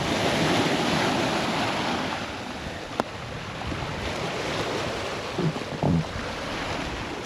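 Ocean surf washing onto the shore at Annotto Bay, a continuous broadband roar of breaking waves with steady wind noise across the whole stretch, no voices.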